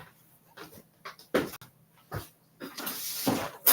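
Pet dogs whimper and pant indoors in short, irregular bursts of breathy huffs and soft whines, fairly close, with some shuffling noise in a stuffy room.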